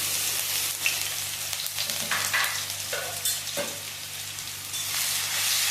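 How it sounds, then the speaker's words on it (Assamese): Onion, ginger and garlic paste sizzles in a pan for an Assamese aloo dum, a steady close frying hiss broken by a few stirring scrapes. "পিঁয়াজ, আদা, নহৰুখিনি ভালদৰে মই ভাজি লৈছোঁ, কেঁচা গোন্ধটো যোৱালৈকে।"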